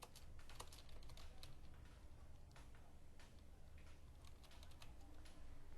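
Keys clatter as a title and subtitle are typed into a PowerPoint slide on a computer keyboard. The taps are quick and irregular over a steady, noisy background hiss, with no speech.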